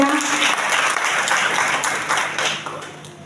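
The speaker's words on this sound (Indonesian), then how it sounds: "Tepuk tangan dulu untuk wanita Bethel Indonesia." Audience applause fills a church hall during a women's fellowship anniversary celebration, a dense burst of clapping that holds for several seconds and then fades.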